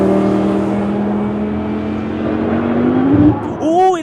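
Porsche race cars at Paul Ricard circuit: a steady, loud engine drone holds and rises in pitch as a car passes close, then another snarls by, with a commentator talking throughout.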